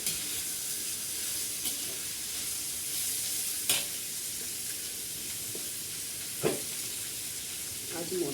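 Onions fry in a pan on a traditional stove, giving a steady bright sizzle with occasional louder crackles and spatters, close and continuous with no talking.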